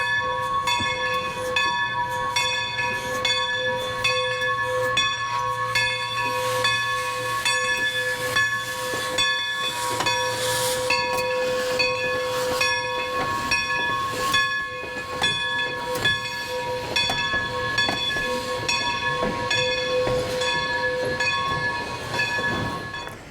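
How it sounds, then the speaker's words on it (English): A steam train of the New Hope Ivyland Railroad, dating from about 1914 to 1937, rumbles past steadily with hissing and a sustained whistle tone over clanking rail noise, loud and continuous throughout. "These trains that run through here are dated about 1914 to 1937. They're steam trains."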